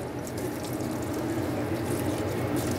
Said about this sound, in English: You're going to throw that in the colander under the water.